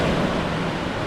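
A short, steady rush of seawater washing through cracks in coastal rocks along a Hong Kong shoreline trail, broad and hissing at a constant close level.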